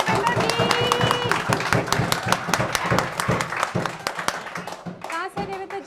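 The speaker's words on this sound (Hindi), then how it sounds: "देवेंद्र जी के लिए तालियां बजाइए" Brief applause for a trainee at a mobile phone repairing training institute, a scattering of sharp hand claps from a small group running for several seconds, with talk and voices mixed in throughout.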